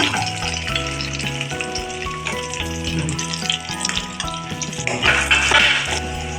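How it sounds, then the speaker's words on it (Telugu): Chillies and onions frying in hot oil for a prawn curry give a steady sizzle with a louder hissing burst near the end, heard beneath prominent tonal background music. "అది నూనె వేసానండి. తర్వాత చూడండి చిల్లీస్ వేసానండి. ఆనియన్స్ వేసానండి."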